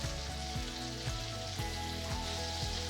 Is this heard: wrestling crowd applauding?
no